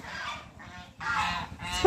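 Two geese fighting honk harshly in short, overlapping bursts, close by and agitated, the calls rising sharply at the end.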